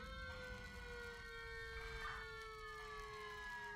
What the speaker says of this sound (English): engines are arriving, as you can hear and see